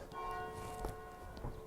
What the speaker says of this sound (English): These are the bells from the Dormition Church,